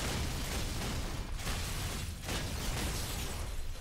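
Rocket explosions in the Halo game mode inside Minecraft: a loud, continuous blast roar with a couple of dips, dense and close throughout, with no talk.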